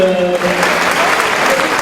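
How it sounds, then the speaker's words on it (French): Loud, steady crowd applause at an amateur boxing event in Roncq, with a voice briefly audible at the start before the clapping fills the whole stretch. "Vos applaudissements."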